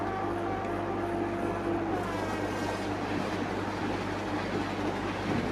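An Indian Rajdhani Express rolls past in a steady, continuous rumble with a faint rhythmic rattle of carriages, a low hum underneath and a higher tonal whine running through it, heard at moderate distance without talk.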